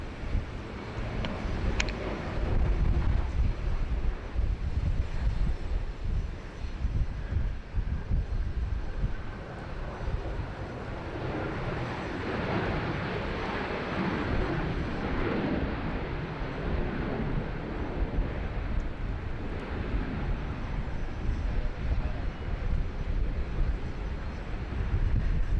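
Jet airliner taxiing at Sydney Airport, a steady broad engine roar with wind rumble, continuous and moderately distant throughout without speech.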